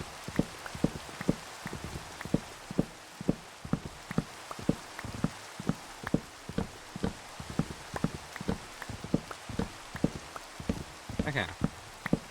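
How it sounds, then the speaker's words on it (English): Rain falling in a building game, heard as a steady run of sharp, regular drop-like ticks close up, with a brief brighter burst near the end, no talk. "It is raining now."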